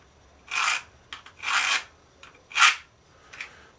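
A scribe scratches a line across a Kydex sheet for a knife sheath: four or five rasping strokes, short and close, with brief pauses between them and no talking.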